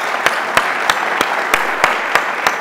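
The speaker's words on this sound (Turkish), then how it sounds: "Buna bir alkış ya, yapmak istiyorum." Audience at a political gathering with Kılıçdaroğlu clapping in a steady rhythmic beat, sharp evenly spaced claps over a continuous crowd hiss.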